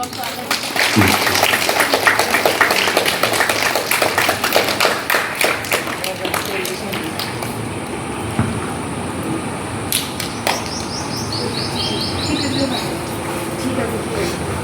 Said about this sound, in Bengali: সবাই হাততালি দেবে